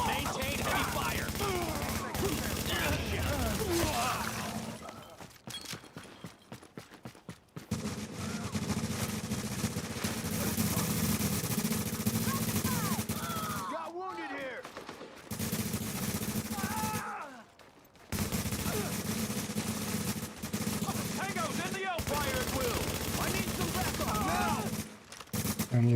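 Heavy automatic gunfire from The Division video game, sustained bursts rattling loud and dense, broken by a few brief pauses, with occasional game sounds mixed in.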